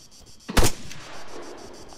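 .50 cal rifle fire in a video game: a single sharp, loud shot with a short rumbling tail, heard over faint background hum.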